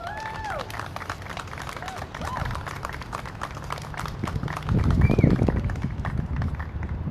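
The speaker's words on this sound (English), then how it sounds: "Can we give that a round of applause, please?" Steady applause from an audience at a Black Lives Matter event fills the room, a dense wash of clapping that swells near the end, with a few faint voices mixed in.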